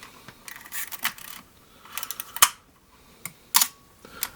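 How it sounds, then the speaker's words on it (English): Shutter release clicks on a Voigtlander Vito C film camera, a handful of short, crisp mechanical snaps at irregular intervals, close up and alone in a quiet room. "The shutter release is on the front here,"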